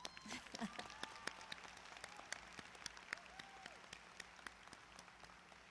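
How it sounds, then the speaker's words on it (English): Audience applause at a Middle College graduation ceremony at Austin Peay State University, fairly faint and distant, with scattered sharp claps spread through a large hall. "let's have another round of applause for that"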